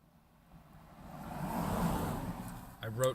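A car drives past on the road outside a parked truck, its engine rumble swelling to a peak and then fading, with a voice starting up briefly at the very end.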